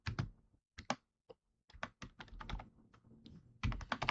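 Quick, uneven bursts of typing on a wobbly computer keyboard, with clacking keys in clusters separated by short pauses, close and fairly faint.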